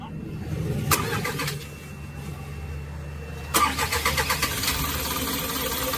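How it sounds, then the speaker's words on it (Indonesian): A truck engine cranks and catches, then settles into a steady rumbling idle with bursts of rapid knocking, loud and close, after a short electric whine at the start. "mesinnya sudah hidup"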